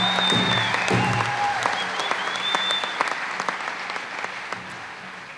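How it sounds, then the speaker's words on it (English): Applause from a crowd at a tribal and community college graduation ceremony, steady clapping with a few whoops and whistles that gradually fades out. "So give yourself a round of applause."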